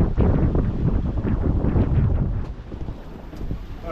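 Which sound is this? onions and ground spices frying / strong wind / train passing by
strong wind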